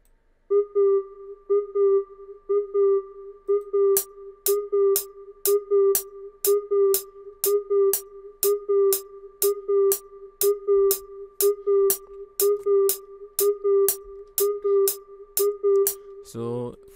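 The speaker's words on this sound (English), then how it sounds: "So this is the first melody that I started with." A plucky Afrobeat synth melody in a bedroom studio plays a steady repeating pattern of short bright notes, later joined by crisp regular clicks on the beat, clean and upfront with no voice over it.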